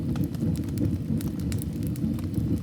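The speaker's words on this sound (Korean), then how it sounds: "벽난로는 아무 말 없이 타오른다." A fireplace fire burns in a snowy Swiss mountain room, giving a steady low rushing roar with scattered sharp crackles and pops throughout, close and fairly loud, with no voices.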